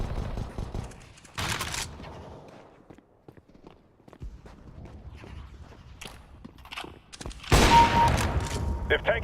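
Gunfire from the video game Free Fire bursts out in sharp volleys and single shots between softer game sounds and footsteps, with a loud flurry near the end and faint voices in the background.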